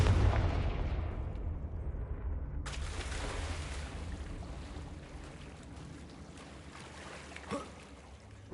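Confringo fire spell bursts in Hogwarts Legacy on PS5: a sudden loud blast opens, then a dense rumbling roar and crackle sustain throughout with a faint thump near the end, no talking.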